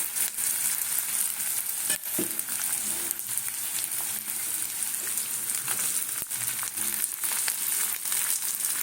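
Cut potatoes frying alongside snake gourd in a pan, giving a loud, dense and continuous crackling sizzle broken by occasional scrapes of stirring.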